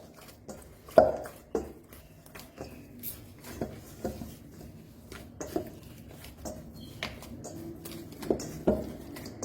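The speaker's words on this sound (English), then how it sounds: "and knead this" Dough for eggless hot cross buns is kneaded by hand in soft, irregular slaps and presses, each a muffled thump or squish, repeating about every half second to second, close and fairly quiet.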